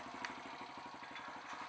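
A Kawasaki KLX170 dirt bike engine, a rebuilt KLX140 with a big bore top end, idles steadily in a fast, even putter with a light mechanical clatter, close and constant with no talking.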